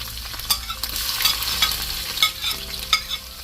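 Garlic, ginger, curry leaves and green chillies sizzle and fry in a pan while being stirred, a steady close crackle with soft scraping strokes and no talking.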